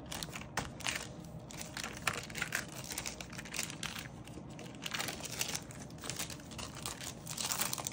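Tape being pulled and peeled from a 3D printed silicone mold to lift off residue gives a steady run of close crinkling, crackling rasps with small sharp ticks, with no talking.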